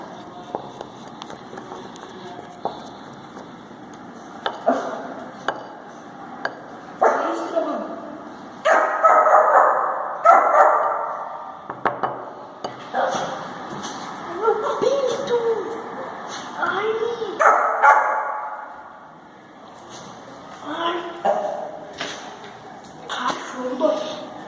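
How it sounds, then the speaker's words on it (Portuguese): A pet dog barks and yips in short bursts close by in a home kitchen while brigadeiro is being made in a microwave, mixed with a person talking and handling things. "o meu cachorro tá me assanhando aqui, querendo pegar uva"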